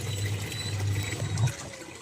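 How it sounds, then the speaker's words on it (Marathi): A thin stream of water runs from a tap at a home in hot summer weather, a soft, steady, low trickle that stops shortly before the end. "पाणी खूप बारीक येतं बघा जरा"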